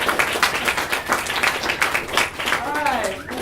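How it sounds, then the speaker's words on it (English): Students and an audience applaud their mentors in a hall, rhythmic, fairly loud clapping from many hands that continues steadily, with a voice or whistle rising near the end. "I want the students and everyone to please applaud our mentors"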